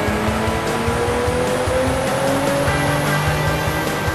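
A Nissan 350Z running on a dyno with ENEOS 0W50 fully synthetic oil, its engine roaring loud and steady throughout with a slowly rising pitch.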